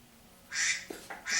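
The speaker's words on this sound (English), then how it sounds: "Oh, duck, go away." A duck quacks near the microphone in a few loud, raspy bursts that repeat and break off, sounding close and clear over quiet background hum.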